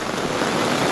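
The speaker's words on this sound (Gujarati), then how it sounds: "ઓહો ભયંકર વરસાદ ચાલુ છે" Heavy monsoon rain pours down in the Gir forest, a dense, steady roaring hiss that stays loud and unbroken throughout, with no voices.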